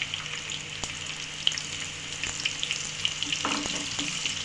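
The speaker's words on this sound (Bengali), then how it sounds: "পেঁয়াজ বেরেস্তা ভাজার সময় অবশ্যই চুলোর ফ্লেমটা একেবারে হাই হিটে রেখে ভাজতে হবে।" Thinly sliced onions sizzle steadily in hot oil in a pan over a high flame, a dense continuous crackle with small pops and occasional stirring, and no voices.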